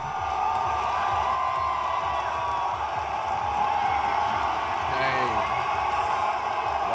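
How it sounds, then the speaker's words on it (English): Arena crowd at a Sacramento Kings Summer League basketball game roars in a steady, loud wash of cheering and whoops lasting throughout, with a brief swell near the end. "And here's the crowd's reaction."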